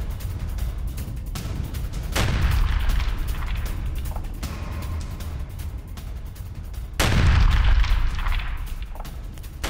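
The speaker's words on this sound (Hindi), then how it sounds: "रूसी टैंक में कैसे हुआ जोरदार धमाका" Two heavy booms from a Russian tank blast in war footage, each a sudden loud broadband burst with a rumbling low-end tail, the second striking about five seconds after the first over a steady noisy background.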